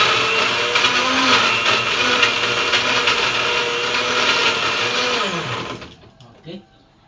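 A blender running at its highest setting whirs loudly as it crushes ingredients for a buco shake, a steady grinding roar that winds down and stops near the end, followed by a small clunk.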